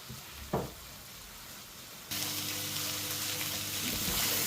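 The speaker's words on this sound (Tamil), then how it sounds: "அப்போது இன்னும் ஒரு 5 நிமிஷம் இது நல்லா பெரிய தீயில் வச்சு ஃப்ரை பண்ணிக்கிறேன்." Food fries on high flame in a pan, a steady hissing sizzle that jumps louder partway through and continues close and constant, with a brief stir clatter early on.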